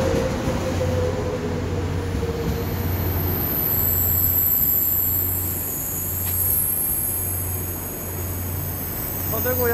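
A KTX high-speed train pulls into platform 6 at Dongdaegu station, with a steady rolling rumble and a low hum, a brief wheel squeal and a station chime near the end.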